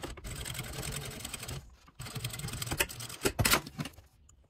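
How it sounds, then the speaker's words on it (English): A sewing machine top stitches a zipper on a fabric make-up bag, running in close, rapid mechanical bursts with a brief pause between runs. "and we will top stitch. We want to make sure that we catch the edge right here."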